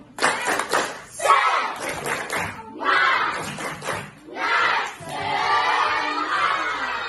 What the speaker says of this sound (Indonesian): kita akan mulai dengan tepuk semangat. Tepuk semangat.